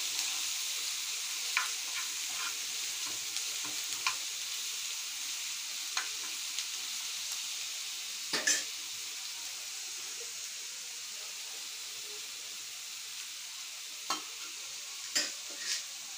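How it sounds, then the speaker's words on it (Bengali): Chili spice paste for a fish curry fries and is stirred in a pan, a soft steady sizzle broken by occasional scraping clinks of the spoon, with no voices. "মরিচ মশলাটা কষাইতে হবে।"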